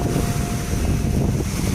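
Strong wind buffeting the microphone at Manila Bay, a continuous loud rumbling roar mixed with waves and water noise, with no talking.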